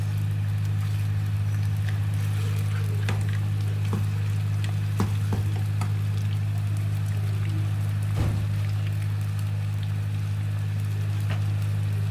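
Beef frying in oil in a pan gives a steady, close sizzle with scattered pops and crackles, held at an even level with no talking throughout.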